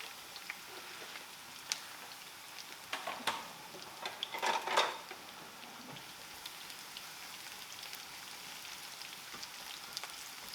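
Eggplant pieces fry in a pan for swordfish caponata, giving a faint, steady crackling sizzle throughout, with a few louder spatters and pops around the middle.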